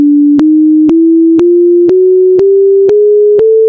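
A pure synthesized sine tone climbs a scale in 13/11 just intonation, moving through eight evenly spaced steps. Each new note begins with a sharp click, and the tones sit loud and alone.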